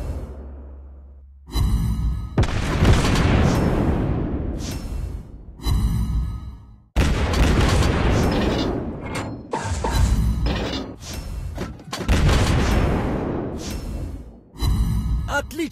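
Loud, booming ship cannon blasts from the cruiser Udaloi fire several times with rumbling, crashing tails, spaced a few seconds apart in a busy naval video game soundscape.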